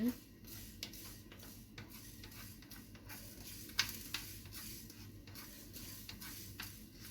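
Mustard seeds starting to splutter in hot oil while cooking onion thokku, with faint scattered pops and crackles over a soft background sizzle, the occasional sharper pop standing out.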